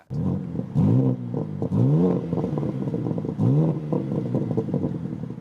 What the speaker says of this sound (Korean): 후드 아래에는 BMW의 유명한 엔진인 3리터 인라인 6기통이 장착되어 있으며 M 튜닝도 되어 있습니다.